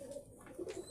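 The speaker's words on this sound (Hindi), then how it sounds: "ये 10 नंबरी कबूतर बैठा हुआ है" A pigeon coos softly in a loft where a male and female pair sit together, low rounded notes swelling twice in under a second, faint and close with no talk.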